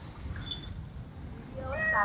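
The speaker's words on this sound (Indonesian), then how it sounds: "Ya, kucing." A cat meows briefly near the end of a short indoor moment, a couple of faint high cries over low background rumble and murmured voices.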